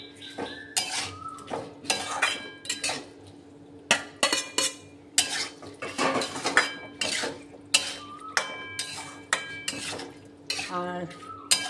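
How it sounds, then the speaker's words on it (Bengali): Prawns and potato chunks are tossed into a cooked spice masala in a pan for a home-made chingri mochar ghonto, giving repeated clanks and scrapes of a spatula against metal with a soft sizzle underneath, loud and close. "তো এই অবস্থায় আমি চিংড়ি মাছ আর আলুটা"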